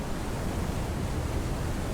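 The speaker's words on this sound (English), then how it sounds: "That was probably like a 20-foot wave." A huge rogue wave crashes over a sailboat in a storm in the video game WILL: Follow the Light, a dense, steady roar of surf and spray with wind that holds loud and unbroken for two seconds.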